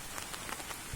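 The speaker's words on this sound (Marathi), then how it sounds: "पाऊस पण सुरू झालेला आहे आता" Monsoon rain falls steadily outdoors near water during an evening fishing outing, a dense even patter of drops hitting surfaces close by, with a soft thump near the end.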